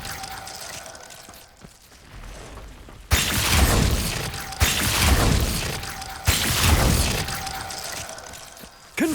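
A Glacius freezing spell in Hogwarts Legacy lands with repeated loud, shattering icy impacts, three bursts of crackling breakage each decaying before the next, after a quieter stretch at the start.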